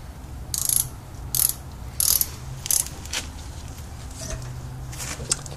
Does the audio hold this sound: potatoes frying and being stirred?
no